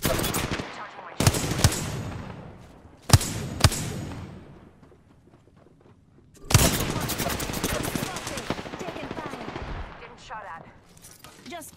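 Gunfire in the Apex Legends video game: several sharp, loud shot bursts early on, then a sustained rapid automatic volley that trails into scattered fainter shots, with game sounds between and no speech.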